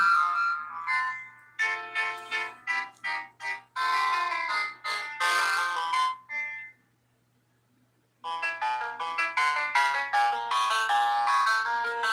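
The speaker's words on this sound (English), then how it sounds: "I have to play my new theme song on this old busted phone" Theme song played through the speaker of an old, busted phone, a tinny, bright melodic ringtone-like tune running in phrases, breaking off into a pause of near silence before resuming.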